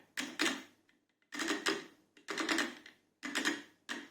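Clicking comes from the spindle of a Parkside Performance D4 brushless angle grinder as it is turned by hand, heard as four short bursts of rapid ratcheting clicks with brief pauses between them, close and fairly quiet.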